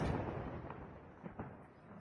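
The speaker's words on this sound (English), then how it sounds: "Russian warehouse explosion, part 2, up close and bigger explosions." Distant explosions at a Russian warehouse rumble as low, muffled booms, with a couple of sharper thuds standing out from a continuous roar of background noise.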